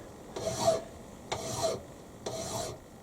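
A metal file rubbed with French chalk rasps across a workpiece in three even, close strokes, each about half a second, with quiet gaps between them.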